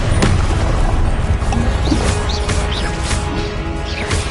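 Confringo blasting spell in the video game Hogwarts Legacy, a loud, dense rumbling explosion with crashing debris and low booming energy filling the whole stretch, bird-like chirps faintly over it.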